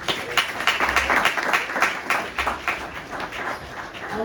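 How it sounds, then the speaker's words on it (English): A crowd applauding, dense overlapping clapping that holds steady throughout, moderately loud and fairly close. "give them a round of applause, everyone"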